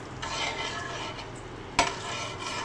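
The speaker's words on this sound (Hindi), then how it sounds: "ऑयल गर्म हो जाता है तो उसमें हमने ऐड किया लहसुन का पेस्ट। अब हम इसको फ्राई करेंगे 1 से 2 मिनट" Garlic paste fries in hot oil in a pan, a close crackling sizzle broken by stirring and a single sharp clink of a utensil against the pan.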